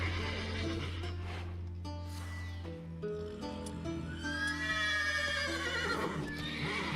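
Several horses neigh and whinny in succession in The Witcher 3 video game, over a low droning background, with a long high whinny near the middle and game-like ambience.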